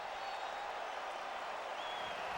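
A Fenway Park baseball crowd during a 2008 ALCS playoff game, producing a steady, distant wash of cheering and scattered applause that holds evenly throughout with no distinct peaks.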